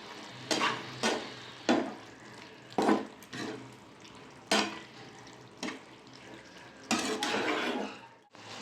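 Chili paneer mixture stirred in a pan with fried paneer pieces, a run of scraping strokes at irregular intervals over a low steady background hiss, close and moderately loud.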